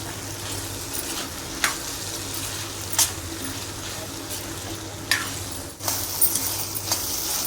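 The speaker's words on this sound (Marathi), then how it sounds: "ते चांगलं परतून घेऊया।" Bean curry (valache birde) sizzles steadily in a hot pan, with occasional scraping clicks of stirring at irregular intervals.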